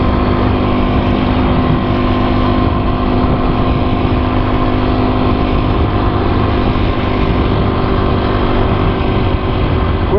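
A Husqvarna TE250 dirt bike engine running while being ridden at an easy pace, a loud, steady, close buzzing drone that holds constant for the whole stretch.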